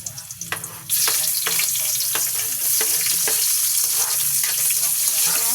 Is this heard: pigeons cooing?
no